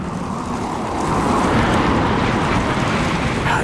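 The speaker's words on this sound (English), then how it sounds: "I hear the wind blowing sand against my window." Wind gusting outside and driving sand against a window pane, a steady broad rushing hiss that swells slightly partway through and carries on without voices.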